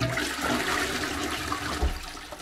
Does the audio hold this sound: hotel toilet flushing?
yes